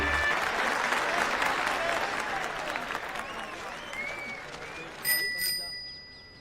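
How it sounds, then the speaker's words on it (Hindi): A bell rings a few clear, bright times near the end, following loud applause and crowd noise that fill most of the clip. "घंटी बढ़िया है इसकी"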